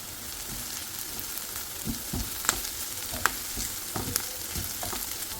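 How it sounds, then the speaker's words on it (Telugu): Chopped onions frying in hot oil with curry leaves added, a close, continuous sizzle marked by sharp pops and crackles as the pan is stirred. "ఇప్పుడు ఈ ఆనియన్స్ ఆయిల్లో మంచిగా ఫ్రై అయ్యే వరకు వేస్తున్నాను"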